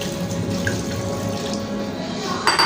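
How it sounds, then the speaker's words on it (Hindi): Water runs from a tap into a pot of chicken and chickpea curry, a steady close trickle and splash with a brief sharper splash at the end, heard alone without talk. "पानी इसके अंदर हम शामिल करेंगे।"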